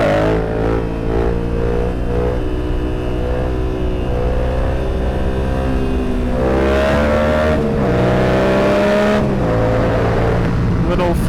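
Yamaha FZ07 motorcycle engine revving loud and close as it accelerates, the pitch rising and falling through gear changes, with wind noise and brief voices.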